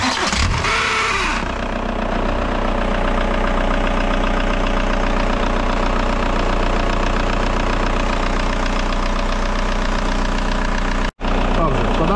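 A Skoda Fabia car engine cranks briefly, catches and settles into a steady idle, loud and close. The hum continues evenly for about ten seconds until it cuts out abruptly near the end.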